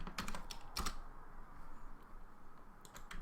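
Fast typing on a computer keyboard, a close run of crisp key clicks in quick bursts with short pauses, heard alone without talk.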